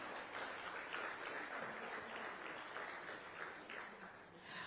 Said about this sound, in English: A big round of applause, kindly.